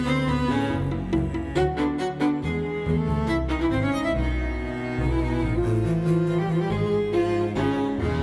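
Two layered groups of string players in tense orchestral combat music sustain bowed chords and pulsing phrases. The sound is full, loud and continuous, with no voices.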